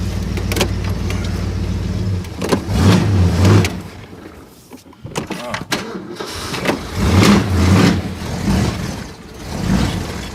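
A 1965 Ford Galaxie with a manual clutch and a worn shifter drives along. Its engine rumbles steadily from inside the cabin and swells in a few revving surges, with brief quieter gaps between them.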